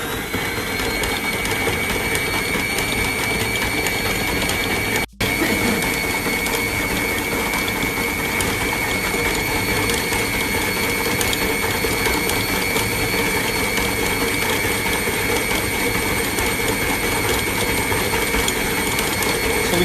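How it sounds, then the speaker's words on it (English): A dough kneading machine with its gear running, mixing dough for Himalayan chicken dim sum, gives a steady, unbroken mechanical whir and rattle, with one brief cutout near the start. "just pick up the machine once, bring the dough to the center, and then punch it back with the gear"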